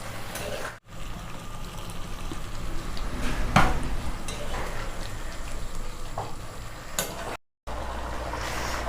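Chana masala cooks in a pan over a gas flame with water just added, giving a steady bubbling sizzle, stirred now and then, with a brief louder scrape near the middle and two short dropouts.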